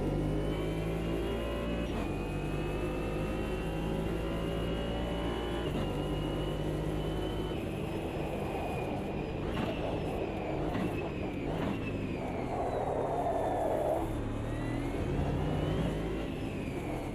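GT4 race cars in the Automobilista 2 sim racing game, engines droning steadily at high revs with tonal whine and occasional thumps and rattles over big curbs, continuous and loud throughout.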